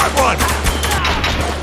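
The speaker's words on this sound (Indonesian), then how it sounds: "ada musuh nih, kita tembak dulu" Gunfire from shooting enemies in Spec Ops: The Line, a dense burst of overlapping rapid shots that runs nonstop and loud through the whole moment.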